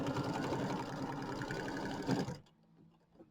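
An embroidery machine stitches placement lines for a bench pillow wreath design, a steady rapid mechanical chatter that runs for over two seconds and then stops abruptly, leaving quiet.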